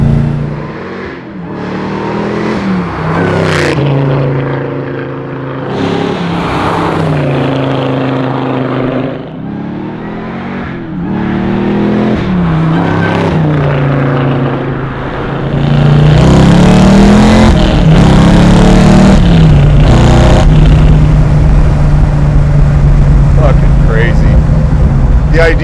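A 750-horsepower 1969 Chevy Camaro pulling hard under acceleration, its engine note rising and falling through several loud rev sweeps, close and dominant with people talking over it inside the car.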